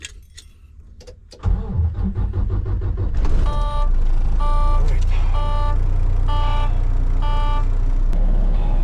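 Large truck engine cranks to life after faint clinking, then settles into a loud steady deep idle with a repeating high electronic beep pattern, a brief spoken word near the start.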